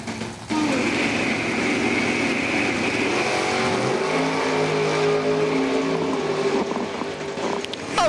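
Drag race cars, including a Chevrolet Camaro, at Numidia Dragway, engines droning steadily and then surging as they launch and pull away down the strip, moderately loud with crowd-area ambience.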